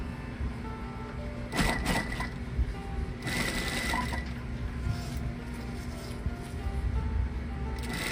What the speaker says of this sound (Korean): 기계로 봉제하고 계십니다.